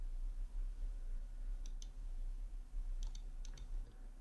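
Computer mouse buttons clicking while setting up choices and message content in an automation tool: a few faint, sharp clicks in pairs, spaced apart over a low steady hum, with no talk.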